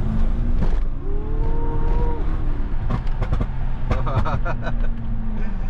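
A BMW 750i with a V8 engine drives through city streets, its low engine rumble steady underneath, with gear-change pitch sweeps and some rattling and traffic noise nearby.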